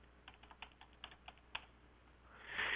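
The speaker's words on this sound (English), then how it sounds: "So we're going to type that in." Quick keystrokes on a computer keyboard entering a drug name, about a dozen light clicks in an uneven burst, close and quiet, followed by a soft rush of noise.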